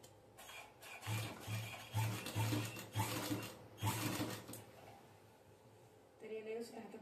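A sewing machine stitches a chain onto a cushion cover in short rapid bursts of whirring needle clatter, stopping and starting, close by, with someone speaking softly over and between the runs.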